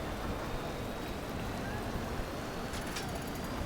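Steady rain falls in the Parkitect theme park game, a dense even hiss of drops holding constant from start to finish with no talk.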